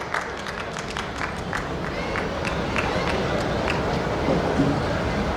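An audience at a Hindi poetry recital breaks into dense, sustained clapping. The applause swells steadily over several seconds, and a voice is faintly audible beneath it.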